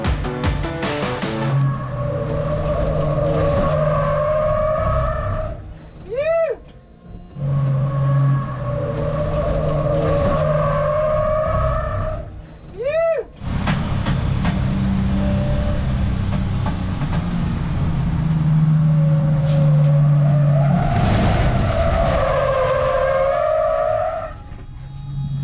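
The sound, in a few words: heavy car driven on track, skidding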